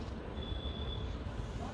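Howrah–Puri superfast express 12837 pulling out of Bhubaneswar, heard from inside a general-class coach as a low, steady rumble of the moving carriage with a faint thin whine above it.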